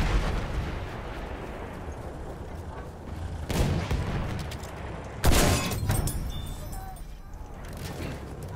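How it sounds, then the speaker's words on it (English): An anti-tank rocket in Battlefield 1 bursts in two heavy explosions a couple of seconds apart amid a constant rumble of battle noise, the second blast louder and sharper. "We gotta love the AT rocket!"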